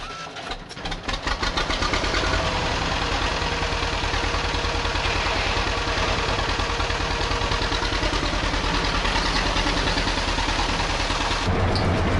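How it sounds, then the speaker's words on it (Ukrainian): A tractor engine starts and settles into a steady, loud running chug, continuous and close throughout. "Ну, трицикл поки місь поломаний, то сьогодні поїдемо трактором."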